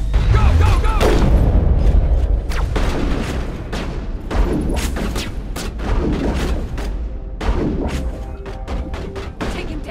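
A Mass Effect firefight with loud, rapid gunfire and heavy booming impacts. The bursts hammer away almost continuously at close range, with occasional shouting voices buried in the noise.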